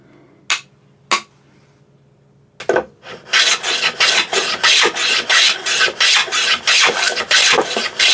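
A Hong Kong style wooden hand plane shaving wood: two sharp knocks and a pause, then a fast run of about fifteen rhythmic rasping strokes, close and loud, with no talking.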